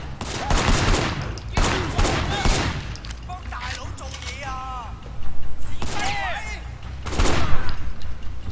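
Bursts of gunfire from the action game Sleeping Dogs crack out in several loud clusters, separated by quieter stretches with whistling and squealing effects in between.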